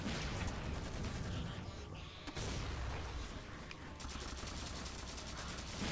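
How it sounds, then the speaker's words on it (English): Plasma grenades burst among rapid gunfire in the video game Halo 4, a continuous dense barrage of shots and explosions with a brief sharp crack partway through. "Whoa, lots of plasma grenades"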